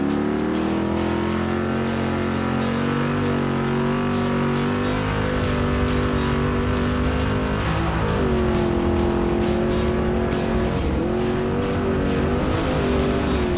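A spec race truck drives through a dusty off-road qualifier at Legacy Baja Nevada, its engine a loud, continuous close roar that rises and falls in pitch with shifts and throttle changes.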